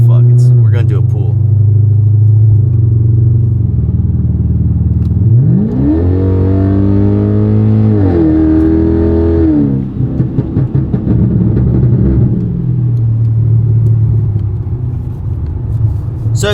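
A BMW F10 sedan accelerates hard, its loud engine note climbing steadily in pitch, briefly easing, then pulling up again before settling back to a lower drone.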